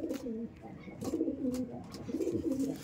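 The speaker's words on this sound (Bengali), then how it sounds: "পায়রা এগুলো আমার উড়ানো পায়রা" Green Madras pigeons coo in short, repeated throaty bursts close by, with soft rustling and faint background noise between calls.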